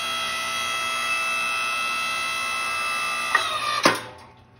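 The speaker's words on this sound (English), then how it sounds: "So I got a foot press, activate the motor," A homemade hydraulic forging press motor runs with a steady, close electric hum and whine, followed by a couple of sharp mechanical clunks before it winds down and stops.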